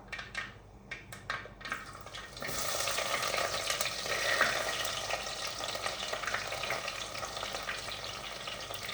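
Ginger, garlic and small shallots go into a hot pan, with a few sharp clicks first, then a loud burst of sizzling that settles into steady close frying for the rest of the clip.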